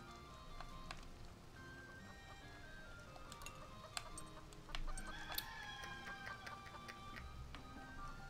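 Chickens cluck and a rooster crows on a farm in the video game Fuga: Melodies of Steel. Scattered bright clucks and calls repeat over a quiet background, with no speech.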